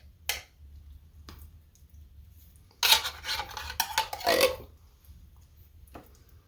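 Thick canned cream of mushroom soup slides and squelches onto a rump roast in a slow cooker, a soft wet plop and scraping smear in the middle after a few faint taps, close and quiet.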